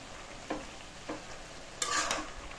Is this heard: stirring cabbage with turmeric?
yes